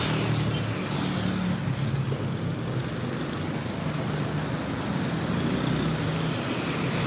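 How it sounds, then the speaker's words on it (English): Street traffic in the Philippines with motorbikes, trikes and cars passing by, heard as a continuous loud wash of engine and road noise from nearby vehicles during a morning walk. "A lot of bikes, a lot of trikes, and then you got some nice vehicles going by like that."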